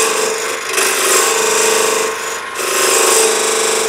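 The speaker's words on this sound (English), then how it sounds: "I like to use the scraper that I've got sharpened to make my tenon in here." A sharpened scraper cuts a square tenon on a spinning wooden bowl, a loud continuous rasping scrape close by in two long passes with a brief easing between them and no talk.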